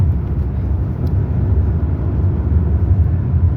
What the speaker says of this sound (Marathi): आम्ही पण गाडीची स्पीड वाढवली.